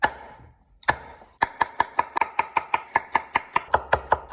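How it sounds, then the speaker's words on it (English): Knife chopping mushrooms and other ingredients on a board: after a couple of opening cuts, a steady rapid run of sharp, close chops at an even rhythm, about fifteen in a row. "Cut all that up and fucking stick it in a bowl."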